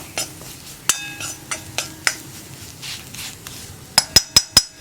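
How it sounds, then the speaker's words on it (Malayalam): A utensil stirs spice powders in a pan for a spicy egg fry, giving soft scrapes and irregular metallic taps. A quick run of four sharp, bright clinks comes at the end. No one talks. "ഇനി ഈ പൊടികളൊന്ന് കുക്കായി വരുന്നത് വരെ 1 മിനിറ്റ് ഒന്ന് ഇളക്കി കൊടുക്കുക."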